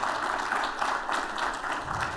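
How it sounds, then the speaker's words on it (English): A conference audience applauds a panel, a dense, even wash of many hands clapping together for a couple of seconds, with no talk on top. "how about a round of applause for our tremendous panel?"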